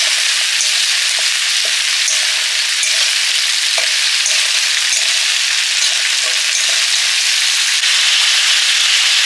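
Fish curry simmering and frying in a pan with a second dish cooking alongside, a steady close sizzle with soft stirring scrapes and occasional small pops throughout, no voices.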